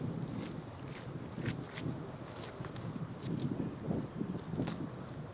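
Steady wind buffets the microphone outdoors on a disc golf course during a rainy, blustery tournament round, a continuous low rumble with occasional rustle and faint footsteps, no talking.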